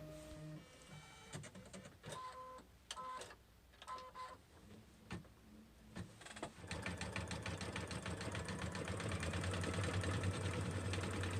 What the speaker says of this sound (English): I run my machine at the medium speed setting because I tend to find that if I run it at the very fastest setting, the thread tends to fray fairly easily